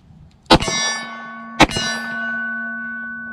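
Two loud metallic clangs of 9mm bullets striking steel targets, fired from a Sig P365 XL or Canik TP9SFX pistol, each hit ringing out with a long sustained tone that fades over about a second.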